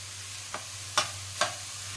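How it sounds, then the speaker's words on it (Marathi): A spoon stirs grated carrot halwa in a pan, three quiet scraping strokes spaced about half a second apart over a steady low hum. "चांगलं मिक्स करून घेणार आहोत"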